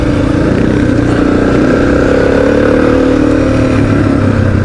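A KTM 500 EXC-F dirt bike engine drones loudly and steadily close by, its revs holding high with a rough, clattering edge throughout.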